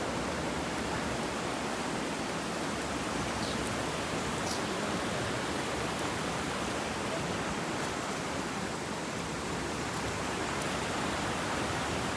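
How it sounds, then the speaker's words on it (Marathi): A waterfall in the rainy season at Manche gives a steady, dense roar of rushing water that fills the whole stretch evenly, with no voices. "बघा धबधब्याचा आवाज येतो"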